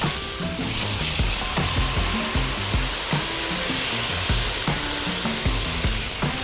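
Russet potatoes sizzle steadily on a hot grill for breakfast hash, a continuous close, loud frying hiss with faint scraping and occasional ticks, and no talking.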